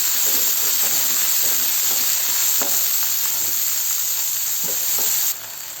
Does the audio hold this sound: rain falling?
no